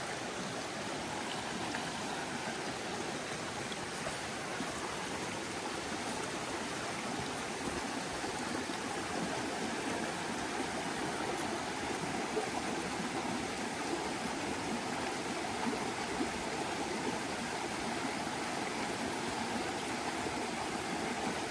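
Rattle River flows at a trail water crossing on the Appalachian Trail as a constant, even rush of water, moderately loud and steady throughout, with no voices.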